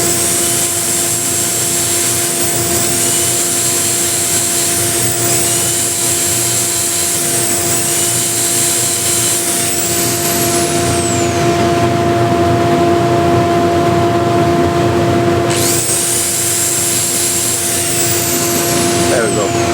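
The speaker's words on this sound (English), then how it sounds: "Now just the feet, and I sand those with the 320 grit" Hand sanding of small walnut and cherry wood plate feet with fine 320-grit sandpaper, a steady continuous rubbing hiss running nearly twenty seconds with constant loudness, alongside a persistent background hum.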